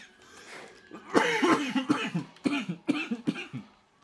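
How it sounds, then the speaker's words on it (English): Repeated harsh coughing from a character in the game Watch Dogs, close and loud, comes in a series of rough bursts after a quiet start. "why am I coughing so much?"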